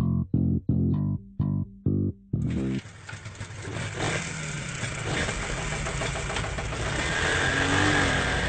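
Motorbike engine starting with several short cranking bursts, then catching and revving into a loud, sustained running roar that stays close and steady.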